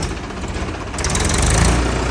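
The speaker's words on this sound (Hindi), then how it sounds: "और ये रहा हमारा 275 महिंद्रा।" A Mahindra 275 three-cylinder 37 HP tractor engine runs steadily, a loud, close, broadband rumble that grows slightly louder and heavier about halfway through, with no talking.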